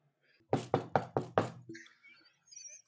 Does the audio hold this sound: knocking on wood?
yes